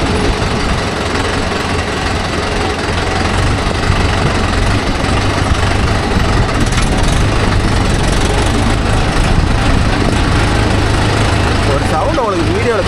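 A Mahindra Yuvo Tech Plus 585 DI 4WD tractor pulling a 9-point cultivator runs steadily with a loud, low engine drone that holds throughout, a rattling vibration under it and a faint voice near the end.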